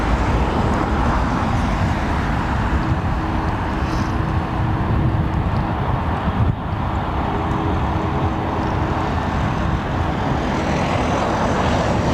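A steady, loud roar of aircraft engines fills London Heathrow Airport, a broad continuous rumble with little variation and a brief dip near the middle.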